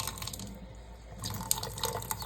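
Tap water runs into a tablespoon in a home kitchen, a close splashing trickle that pauses briefly before resuming with small clinks and drips.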